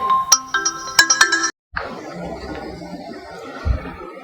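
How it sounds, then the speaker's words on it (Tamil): A phone ringtone for an incoming call plays a bright, melodic tune for about a second and a half, then cuts off abruptly, leaving a busy background of indistinct room noise. "சாரி கேஸ், ஃபோன் வந்துச்சு."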